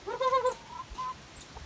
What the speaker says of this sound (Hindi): बहुत सारे मुर्गे हैं यहाँ देखिए